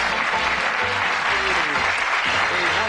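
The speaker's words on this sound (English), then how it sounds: "Give a nice warm round of applause to a Lancastrian" Studio audience at a 1982 Bullseye game show applauds a Lancastrian contestant, Billy Leonard, with steady, dense clapping filling the whole stretch, some faint voices and cheers mixed underneath.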